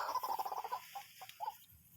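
Birds in a rice field chatter and cluck nearby in quick bursts, fairly faint, with no talking.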